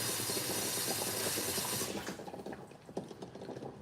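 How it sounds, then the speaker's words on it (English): Tap water running into a kitchen sink while tomatoes are washed, a steady hissing stream that breaks into irregular splashes and drips partway through, fairly quiet and close. "So I'm just washing them, if you can hear the water"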